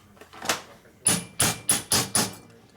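Six sharp metallic hammer blows driving valve seals into a 1972 Harley-Davidson XL Ironhead Sportster engine, the first alone, then five in a steady rhythm, each striking firmly and ringing briefly.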